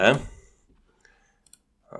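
A computer mouse clicks while working in Paint 3D, giving a few soft, sparse clicks in a quiet stretch between bits of speech.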